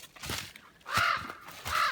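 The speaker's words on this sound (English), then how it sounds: "Birds are squawking, so they know something's going on." A crow caws loudly in two harsh bursts near the start and end, with other birds squawking faintly in between, outdoors at a bait site.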